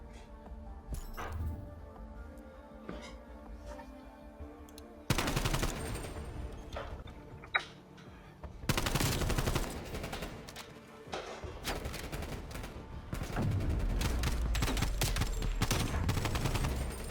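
Rapid automatic gunfire and bursts of shots in a Call of Duty Black Ops Cold War 4v4 match, loud and dense with sharp cuts between volleys, sounding alone without talk.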